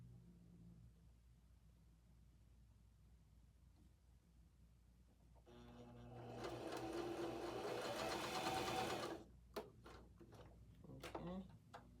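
A sewing machine stitches two pieces of fabric together in a steady whirring run of a few seconds after a quiet start, then stops and is followed by clicks and handling noises.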